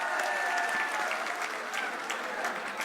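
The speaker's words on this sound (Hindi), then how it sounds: "सम्मानीय पायलट साहब, इनका जोरदार ताली के साथ पायलट साहब का सम्मान और स्वागत करें।" Sustained applause from a large crowd at a farmers' rally in Vijaynagar, welcoming a politician; dense, steady clapping fills the whole stretch at a fairly even level with no speech on top.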